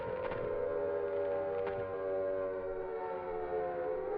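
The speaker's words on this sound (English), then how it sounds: "we hear what sounds like tornado sirens in the distance while the screen fades to black" Tornado-style civil defense sirens wailing in the distance in the Silent Hill video game, a steady, droning tone that holds throughout with no other sounds.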